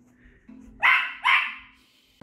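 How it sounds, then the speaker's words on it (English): A pet dog indoors, excited by dogs on the television, gives two loud, close barks about half a second apart, then falls quiet. "when there's dogs on the TV, she'll like bark and get excited"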